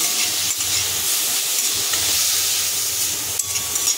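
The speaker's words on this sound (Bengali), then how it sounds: "এটা হালকা নাড়াচাড়া করব। মিডিয়াম বা লো ফ্লেমে আপনারা এটা একটু হালকা করে ভেজে নেবেন।" Papaya chutney being lightly fried and stirred in a pan over medium-low flame, a steady bright hiss with soft scraping movements throughout, no talking.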